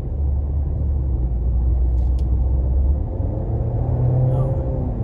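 Maserati Grecale GT engine running while driving, a steady low rumble with road and tyre noise throughout, the engine note rising slightly near the end, faint and smooth rather than loud.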